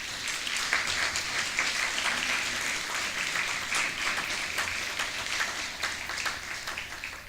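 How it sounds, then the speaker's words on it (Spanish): Dense, even applause from a church congregation rises in a continuous wash of many hands, moderately distant and fairly quiet, with no voices standing out. "¿Cuánto puede dar un fuerte aplauso al Señor por eso?"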